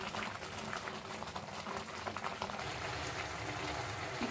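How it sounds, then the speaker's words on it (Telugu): Rice for khichdi boils in a covered pot, giving a soft, continuous bubbling and rumble at low volume with faint gurgles and no talking. "రైస్ ఉడుకుతుంది."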